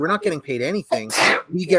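Someone sneezes once, a sharp loud burst partway through, between stretches of a person's live talk.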